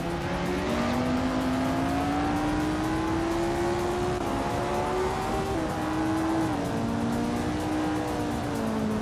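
A vintage 1965 Brabham BT7 race car in a racing game, its engine droning steadily and close, pitch rising and falling gently through gear changes with no pauses.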